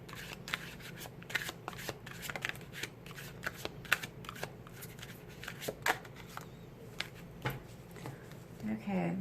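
Tarot cards being shuffled over and over, a steady riffling flutter of card stock that runs throughout, close up and quiet under faint background noise.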